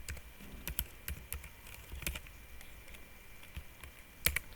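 Someone types a username on a computer keyboard: quick, irregular key clicks over a few seconds, close but fairly quiet, ending with a louder cluster of keystrokes.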